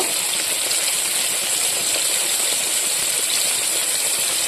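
Eggplant slices frying in oil in a home kitchen, a steady bright hiss of sizzling with no breaks, close and even throughout.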